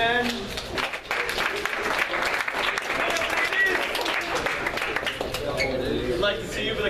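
An audience at a live show claps for two volunteers invited up for a game. The applause is a sustained, fairly loud patter with voices talking and calling over it throughout.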